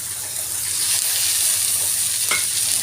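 Food frying in a pan for borugula upma is stirred as turmeric and salt go in, giving a constant bright sizzle with a soft scrape near the end, close and steady with no talk.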